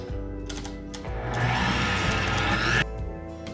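An electric mixer creaming soft room-temperature butter for gingerbread cookie dough, a steady motor whir that rises into a louder, grittier churn in the middle before easing back.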